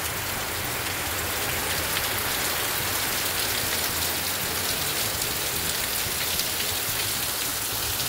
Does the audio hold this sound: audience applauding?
no